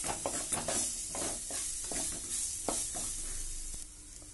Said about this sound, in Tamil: இந்த எண்ணெயிலே கொஞ்ச நேரம் இந்த மா இஞ்சி நல்லா வதங்கட்டும்.